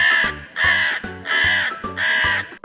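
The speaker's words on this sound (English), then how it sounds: "That's right, it's a crow." A crow gives four loud, harsh caws in an even rhythm, each about half a second long with brief gaps between, close and clear with no other sounds.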